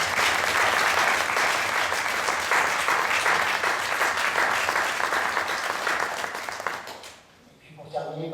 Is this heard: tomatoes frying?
no